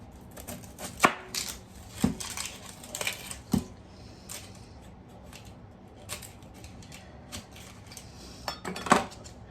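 A knife chops a medium onion on a board, sharp irregular cuts and knocks ringing out close by, some louder strokes spaced among quicker taps, with no talking.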